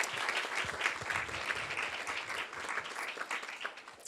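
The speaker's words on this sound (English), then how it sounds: "Can we give them a round of applause, please?" An audience at a school board business meeting gives a steady round of applause for students, a continuous mid-distance clapping that fades slightly toward the end, with no talk over it.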